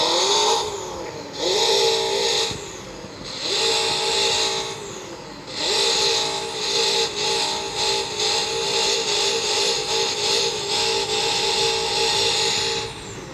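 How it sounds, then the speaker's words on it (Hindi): A BMW car engine starts and revs in a garage, several separate blips rising and falling in pitch, then a longer stretch of uneven revving, loud and close with no talk. "तो चलो गाइस इंजन स्टार्ट करता हूँ इसका।"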